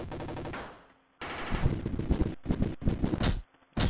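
Rapid automatic gunfire from a gunner unit in the General Chaos video game, loud continuous bursts broken by brief pauses, with no speech.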